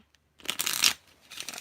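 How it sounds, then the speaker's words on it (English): A brief riffle of tarot cards being shuffled, a quick papery flutter up close lasting under a second, then a softer rustle. "One more shuffle."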